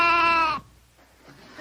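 A goat gives a single loud, nasal, wavering bleat close by, which cuts off sharply and leaves a quiet pause with a faint sound afterwards.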